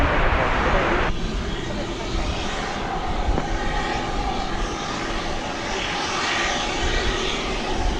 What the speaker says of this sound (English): this plane crossing 18 left, which likely means it's going over to the east side for takeoff